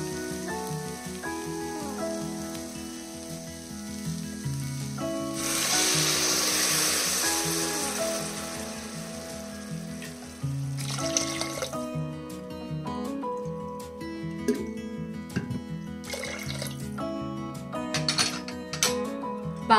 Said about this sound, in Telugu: ఇందులో ఇప్పుడు నీళ్ళు యాడ్ చేసుకుందాం